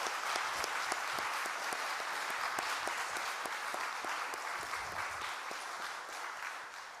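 A church congregation at a Friday prayer meeting applauds the worship team and pastor, a sustained, even round of many hands clapping, moderately distant and fading slightly toward the end.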